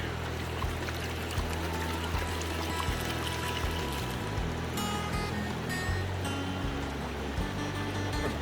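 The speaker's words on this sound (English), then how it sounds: "Pan this down to black sand." Gold panning on river dredge tailings, with water sloshing and pouring steadily as concentrates are worked down to black sand, making a continuous close splashing wash with no voices.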